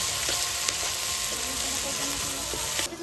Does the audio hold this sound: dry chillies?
yes